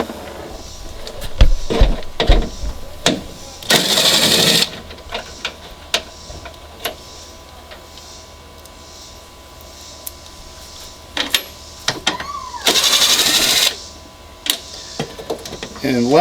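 A power ratchet or impact tool spins out two 10mm bolts holding a 2005-2011 Toyota Tacoma headlight, two short loud whirring bursts separated by clicks, taps and handling noise close up, with a voice talking at times.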